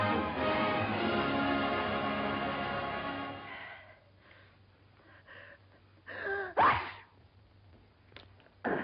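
A loud wheezing, humming drone fades out, then after a quiet stretch a single sharp sneeze bursts out close by, followed by faint breathy sounds.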